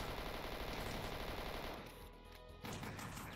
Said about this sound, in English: Switch to the machine gun.